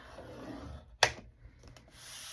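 A single short, crisp scrape as a tool scores a letter-size sheet of paper along its long side for a folio, standing out briefly against a quiet background.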